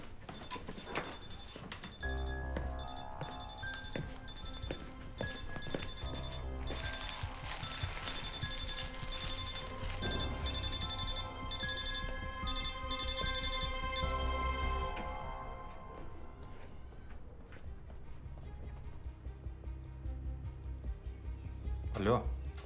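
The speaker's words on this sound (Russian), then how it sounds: "Ты у себя что, звонок сменил, что ли? Это не мой звонит." A telephone rings with a repeating electronic melody over a tense drama music bed, steady and fairly loud, the ringing pattern cycling for most of the stretch before fading out.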